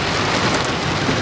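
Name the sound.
heavy rain falling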